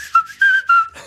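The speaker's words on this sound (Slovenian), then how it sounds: "daj še nama malo zažvižge, no?" A person whistles a short tune, three bright sustained notes, close and clear, with nothing else around them.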